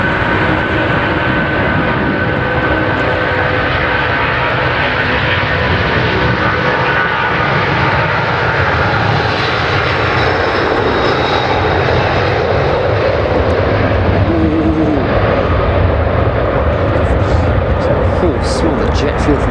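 A Boeing 747 with Rolls-Royce RB211 engines powers up for takeoff, a loud, continuous roaring jet thrust that swells and holds for the whole stretch, with voices faintly under the noise.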